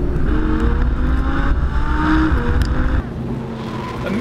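A 2014 Audi R8 V10 Plus coupe rips through the first corner at Willow Springs, its engine roaring loud and close with a continuous high-revving note that drops as the driver lifts near the end.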